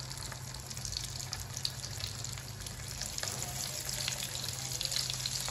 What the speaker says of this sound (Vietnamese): Chiên cái lạc.